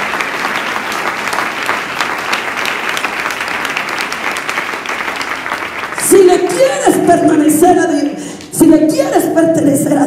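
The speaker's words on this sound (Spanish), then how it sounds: "Denle un aplauso al Señor en esta noche." Church congregation applauding during an evening Spanish-language sermon, steady dense clapping for about six seconds before music with singing and speech cuts in over it.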